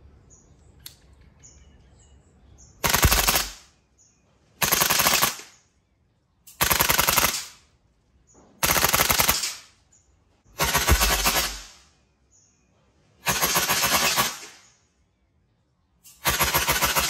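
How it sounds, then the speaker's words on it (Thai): A BCM MCMR gas blowback airsoft rifle fires in full-auto bursts, six loud, close rapid strings about a second each, separated by short quiet gaps with faint birdsong in the background. "ต่อมานะครับผมจะยิงเป็นแบบออโต้นะครับแมกกาซีนสีดำ BCM"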